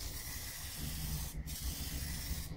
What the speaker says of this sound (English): as we spray on this box, the next spray wants to cover about half of that